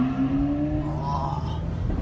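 A powerful supercar engine rumbles steadily at close range in a snowy convoy, its low drone and rising tones echoing off surrounding buildings with a reverberant quality.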